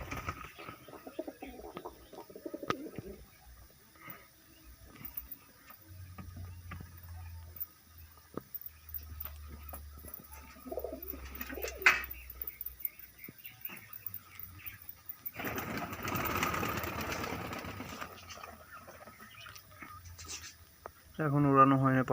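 Pigeons kept in a loft cooing in low, drawn-out murmurs at intervals, while a person talks nearby and scattered clicks and rustles come and go.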